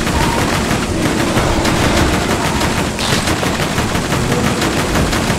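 Rapid automatic gunfire in the video game Borderlands 2, dense continuous bursts of shots layered over game ambience, loud and close throughout with no pauses.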